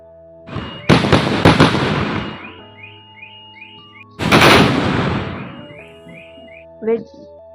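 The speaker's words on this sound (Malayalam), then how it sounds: "മിക്ക ദേവീക്ഷേത്രങ്ങളിലെയും ഒരു പ്രധാന വഴിപാടാണ് വെടിവഴിപാട്" Two loud bursts of rapid gunpowder firecracker explosions at a temple offering in Kodungallur crackle up close, each fading into a ringing, echoing tail, with a short sharp pop at the end.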